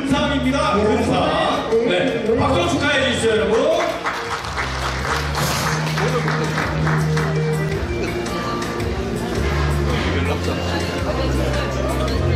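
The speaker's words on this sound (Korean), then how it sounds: "박수 축하해 주시죠, 여러분" Audience applause at a 2018 year-end dinner concert for the gold prize winner of a favorite-song singing event: steady clapping from a crowd under loud, continuous music and background chatter.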